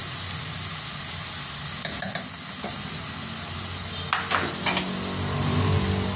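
Onions frying hard over high heat in a pot, alongside ginger, garlic, lemongrass and fish sauce for chicken soup: a steady sizzle and hiss with a few metallic utensil clanks against the pot partway through.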